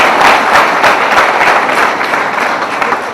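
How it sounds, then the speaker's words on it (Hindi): Dense applause from an audience at a Hindi devotional gathering honoring a guru, steady broadband clapping that swells and then slowly tapers, loud and continuous with no voices on top. "देखो मनमोहन दादा का नाम है तो ताली बजाना भाई"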